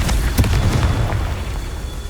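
A Confringo spell explosion in Hogwarts Legacy bursts with a loud, deep boom, then a couple of follow-up impacts rumble and fade.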